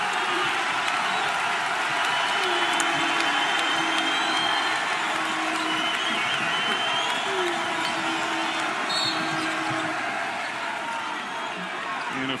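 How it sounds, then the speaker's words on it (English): A college basketball arena crowd at a 2012 NIT game between Illinois State and Ole Miss, a sustained roar of cheering and applause filling the space steadily, with an announcer's voice talking over it. "Here comes the crowd."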